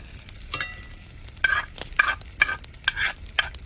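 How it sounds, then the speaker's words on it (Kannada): Garlic, ginger and green chili fry in a pan: a soft sizzle sits under rhythmic, close scraping strokes of a spoon stirring the pieces, about five or six strokes in a few seconds. "ಅಂದ ಮಾಡಿ ಫ್ರೈ ಮಾಡುವ"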